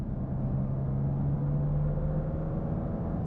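BMW M2 Competition with its exhaust valves closed gives a low, steady idling drone, a muted hum with a faint tonal note and no revving.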